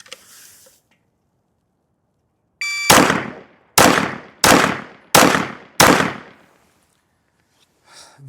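Glock 19 pistol firing at a shooting range: five loud, sharp shots spaced under a second apart, each with a short decaying echo, preceded by a brief mechanical rattle.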